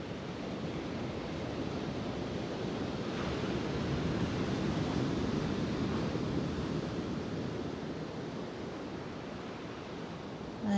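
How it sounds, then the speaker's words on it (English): Ocean waves washing onto the shore, a steady broad hiss and rumble of surf swelling gently and receding, continuous and fairly soft with no voices over it. "Listen to the sound of the waves"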